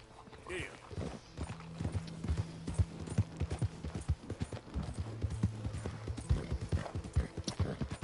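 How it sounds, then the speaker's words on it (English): Horse hooves clip-clop steadily in Red Dead Redemption 2, a rare breed walking at an even rhythm close by, with low tonal hum and faint game ambience underneath. "This horse, in my opinion, is probably one of the rarest horses."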